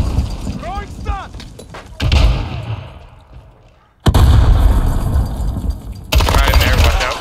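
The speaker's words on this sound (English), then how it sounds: "Throwing stun!" A stun grenade thrown and going off in Call of Duty Modern Warfare, with sharp loud bursts and a decaying ringing whine between abrupt explosive hits amid gunfire, while players talk over it.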